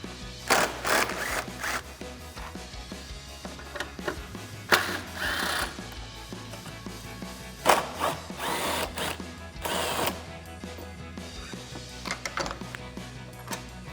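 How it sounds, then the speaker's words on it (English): Scattered bursts of close mechanical clicking and whirring from a socket driver backing out headlight screws on a 2015-2022 Mustang GT, coming in irregular spurts between quieter handling noises. "I'm going to use a 10mm socket for the top and bottom 10mm screws and a 13mm socket for the outer"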